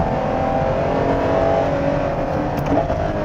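Ferrari Purosangue SUV engine heard from the cabin while driving, its exhaust note a loud continuous drone that swells slightly with a brief downshift blip near the end.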